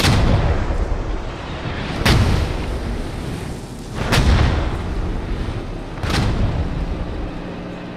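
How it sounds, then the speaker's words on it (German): Artillery shells land in a Post Scriptum battle, three heavy booming blasts spaced about two seconds apart over a constant low rumble of wartime din, no voices. "Ich glaube, wir werden mit der Artillerie beschossen."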